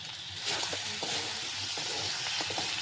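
Water hits a hot pan of curry, setting off a loud, close, continuous sizzle with bubbling and occasional stirring scrapes that swell after the first half-second and hold steady, with no talking.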